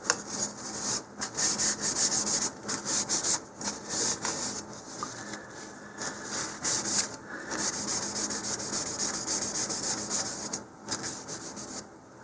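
Alcohol-moistened tissue rubs sanding dust off an Estes Patriot Missile model rocket in short, dry, scratchy strokes, with brief pauses between the strokes, up close and alone.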